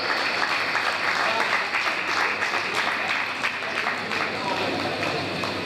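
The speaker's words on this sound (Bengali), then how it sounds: "আরো জোরে হাততালি হোক।" A hall audience breaks into sustained, vigorous applause for people called to the stage at a gathering, many hands clapping densely and evenly throughout at close, loud level.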